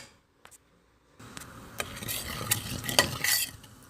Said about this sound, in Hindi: लाल मिर्च पाउडर, काली मिर्च का पाउडर, ये सब डाल के अच्छी तरह से इसको मिक्स करेंगे